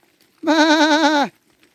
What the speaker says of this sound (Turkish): Küçük kuzulara bakıyoruz arkadaşlar.